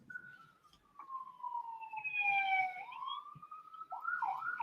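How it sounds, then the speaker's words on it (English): Police sirens wail outside, a long wavering tone sliding down and back up, moderately loud and steady with no talk over it. "More sirens."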